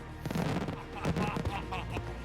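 An Italian bomba de tiro aerial firework shell bursts with a deep boom, followed by crackling rumbles and a second heavy burst, all fairly loud.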